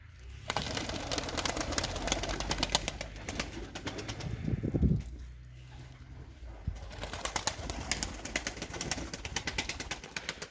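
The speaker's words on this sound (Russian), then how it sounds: "Цветные, пестрые голуби." Colourful Semirechye tumbler pigeons in Kazakhstan coo softly amid a rush of flapping wings, with a brief loud flutter in the middle before the wingbeats resume.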